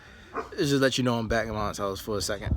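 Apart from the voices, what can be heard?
dog barking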